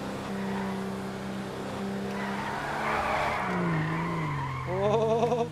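Tires skid and squeal as a car drifts in the GTA V video game, a sustained engine drone with screeching tire noise rising and wavering over several seconds, loud and close with no talk.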